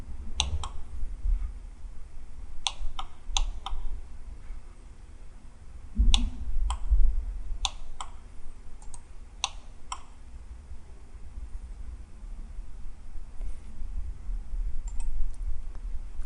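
Sharp, dry mouse clicks while working in Inventor CAD software, arriving singly and in quick pairs or triplets with pauses between, close and distinct over a low background hum.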